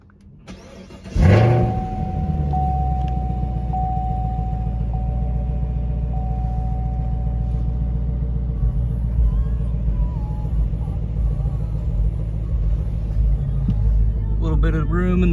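A 2019 Chevrolet Camaro ZL1 fires up with a sharp crank and bark, then settles into a deep, steady, loud idle rumble that holds throughout, with a voice speaking briefly near the end.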